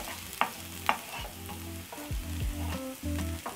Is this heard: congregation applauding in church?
no